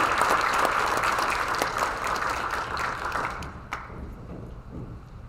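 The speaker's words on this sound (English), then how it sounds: "Let's give them all a big round of applause," Audience applause fills an awards ceremony hall, steady and dense throughout, gradually thinning toward the end with a few scattered claps remaining.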